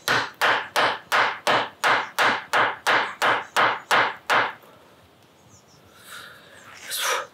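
Rubber hammer striking wood while building a bug hotel for solitary bees, about fourteen fast, evenly spaced blows close up, then quiet with faint rustling.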